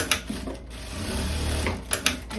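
A sewing machine backstitches over an existing seam on viscose fabric for a long skirt, giving a short, close burst of steady mechanical whirring with clicks at the start and end and no talking.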